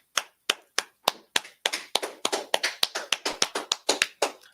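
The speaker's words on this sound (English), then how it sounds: "Clap it up." A gathering at an Israelite school meeting claps along in a steady, sharp rhythm, with about twenty crisp hand claps that come closer together as it goes on, with no talking.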